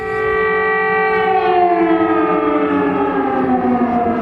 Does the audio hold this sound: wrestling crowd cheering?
no